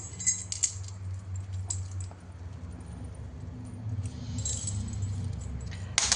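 Small metal charms jangling and clinking as they are handled, with bright light tinkles in a few clusters over a low background hum, close and fairly quiet.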